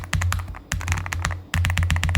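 Brisk typing on a gasket-mounted mechanical keyboard with an aluminium body, PBT keycaps and Cloud Surface switches, close up with smooth, muted keystrokes in quick bursts separated by brief pauses.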